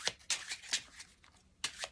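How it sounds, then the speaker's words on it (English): A deck of playing cards shuffled by hand during a card-control demonstration, with quick crisp riffling bursts in an uneven rhythm, close and fairly quiet, with no talking. "and then you just shuffle on top"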